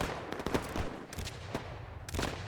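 Gunfire in the video game Easy Red 2, a Gettysburg campaign mod, with a rapid run of irregular shots and distant booms layered over continuous battle noise, fairly loud throughout.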